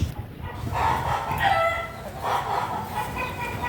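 A fighting rooster raised on a farm near Saigon, Vietnam, crows twice in a row, loud and close, over a low outdoor rumble.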